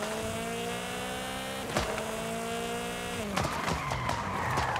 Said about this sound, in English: if I hit this brake, boom. Back to third gear, fourth, fifth.